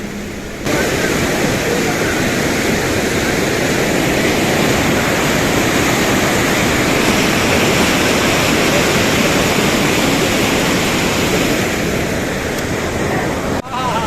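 Loud, steady roar of a rushing mountain river beside a wooden footbridge on the Hampta Pass trek near Manali, a dense continuous wash of water noise that stays constant throughout.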